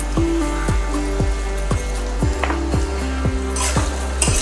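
Food is stirred in a sizzling pan on low heat, a loud steady frying hiss with a regular series of metallic scrapes and clanks from the spoon, close up.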